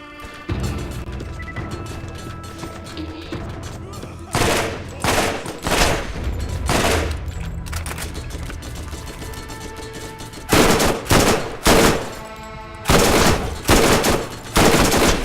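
Weapon fire from a Tediore gun with a low-quality stock in Borderlands 1, loud bursts of rapid shots in several clusters over steady game background, heavy sharp reports repeating in volleys.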